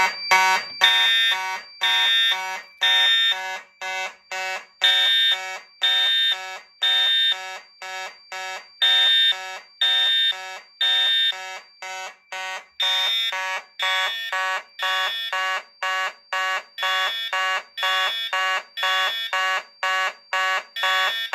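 A building fire alarm set off from a manual pull station sounds a loud, rapid series of electronic horn pulses in a repeating temporal pattern, continuing steadily for the whole span with no talk.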